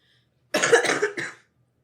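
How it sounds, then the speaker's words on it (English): A single harsh cough, close and fairly loud, with a short second burst right after, then silence. "Cough."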